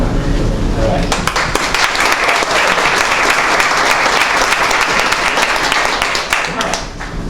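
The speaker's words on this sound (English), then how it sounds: "It's not often I open up to applause" A room full of people applauds for a business being recognized as a certified green business, sustained dense clapping that carries steadily for several seconds before easing slightly at the end.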